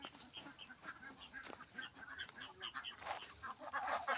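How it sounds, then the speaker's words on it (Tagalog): A flock of domestic ducks quacks and chatters continuously at low level, many overlapping calls from a large group kept on a farm, faint and somewhat distant. "may mga alagang itik dito mga guys"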